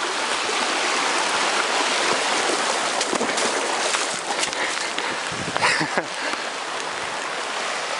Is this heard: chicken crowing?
no